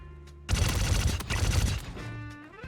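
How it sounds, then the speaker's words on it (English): Gunfire in the Star Citizen video game: a sudden loud burst of rapid shots that holds steady for about two seconds, then trails off into a rising mechanical hum. "Laying down covering fire."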